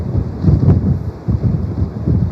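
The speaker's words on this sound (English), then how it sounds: "Frank, I don't know if you can just see the gusts that we are getting here, but it is so extreme" Extreme wind gusts during a wildfire in Altadena buffet the microphone, a loud roaring rumble that swells and dips in several surges.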